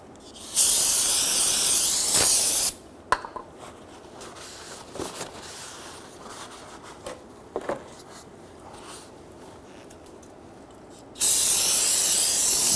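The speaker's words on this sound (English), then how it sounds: "Go ahead and use your TRQ brake cleaner and go ahead and spray these down." TRQ aerosol brake cleaner sprayed onto rear brake parts of a 2006-2010 Hummer H3: two long, loud, steady hissing bursts at the start and end, separated by a quieter stretch with small clinks.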